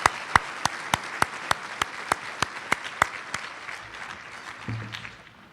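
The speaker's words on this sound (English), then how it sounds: "I think we should give the Pro-Life Federation a big applause for themselves." Applause at a 2021 Pennsylvania pro-life leadership award event: sharp, evenly spaced claps ring out steadily for several seconds, then trail off into quiet room noise.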